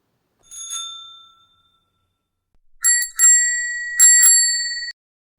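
A bicycle bell rings: one ding, a pause, then a cluster of bright rings that trail off in a clear sustained tone. No talking.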